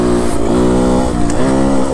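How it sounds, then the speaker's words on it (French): Beta enduro motorcycle being ridden, a loud close engine with strong harmonic buzzing that rises and falls in pitch as the throttle changes. "le bêta là, c'est une moto un peu pour les jeunes"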